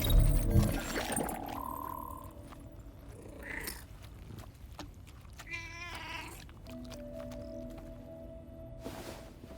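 A cat meows in the video game Death Stranding 2, a few short, tonal cries rising over soft ambient game sound and low background music.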